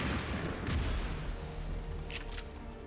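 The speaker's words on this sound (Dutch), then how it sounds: "Door bijvoorbeeld ook dit ding kapot knallen." An object is shot apart in the XCOM video game, setting off a heavy booming explosion that hits hard at the start, then trails into a rumbling, crackling decay with scattered sharp debris bursts.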